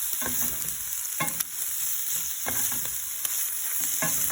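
Onions and mushrooms sizzle steadily in a hot pan, with a bright continuous frying hiss and repeated scraping stirs from a utensil at irregular intervals, close and without talk.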